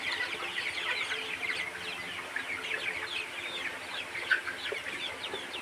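Colour bird chickens on a poultry farm cluck and chatter continuously as a dense, steady flock, with one sharper call standing out near the end and no one speaking.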